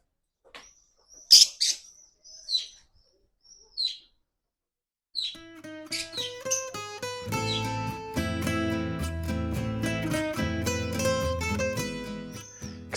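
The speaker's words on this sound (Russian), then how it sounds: "И маленькие попугайчики." Small parakeets kept at a decorated house in Alicante give a few sharp, scattered chirps early on, then are drowned out by loud guitar-like music that fills the rest of the stretch.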